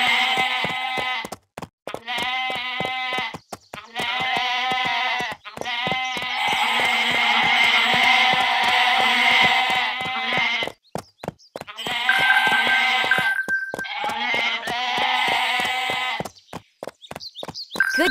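Baby goats in Barbie Horse Adventures bleat repeatedly in high, wavering cries, several overlapping calls close by, with short pauses between bursts and a steady ticking beneath.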